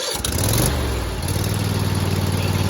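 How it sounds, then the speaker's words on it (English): A Craftsman Z5200 zero-turn riding mower engine, set on choke, cranks briefly and catches, then settles into a loud, steady running drone close by. "I'm going to put it up on choke and give it a crank"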